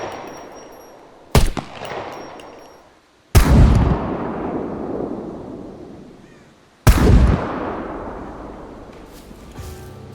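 Three loud gunshots from an M9 pistol and an M82 sniper rifle in the survival game SCUM, each a sharp blast followed by a long rolling echo tail, spaced a few seconds apart with no talk.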